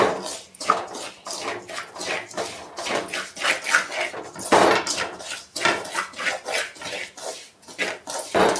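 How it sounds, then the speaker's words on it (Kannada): Semolina being dry-fried and stirred in a pressure cooker for upma: a close, steady run of metallic scrapes and clinks as a spoon drags across the cooker's base, with no talk over it. "ನಾನು ಕುಕ್ಕರಲ್ಲಿ ಉಪ್ಪಿಟ್ಟು ಮಾಡ್ತಾ ಇರೋದು ರವೆನ ಫ್ರೈ ಮಾಡ್ಕೋತಾ ಇದ್ದೀನಿ"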